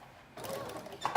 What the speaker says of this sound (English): I'm just going to sew that in place on the edge here.